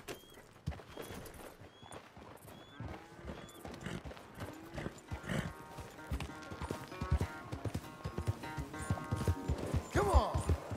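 Horse hooves clip-clopping in Red Dead Redemption 2 on Xbox One, a string of uneven close hoof beats that grows busier and louder toward the end, with a whinny and scattered game sounds mixed in.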